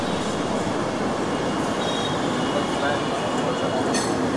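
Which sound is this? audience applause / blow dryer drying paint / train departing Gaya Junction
train departing Gaya Junction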